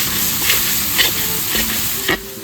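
Spices with Kashmiri red chili powder and a little hot chili powder fry and sizzle loudly in a pan for chicken curry, with repeated scraping stirs roughly every half second.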